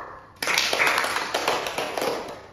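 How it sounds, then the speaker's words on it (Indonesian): A group claps hands during a group activity therapy session. The clapping starts abruptly, then continues as a dense, close patter that slowly fades, with no talking. "beri tepuk tangan untuk Ibu Sinta."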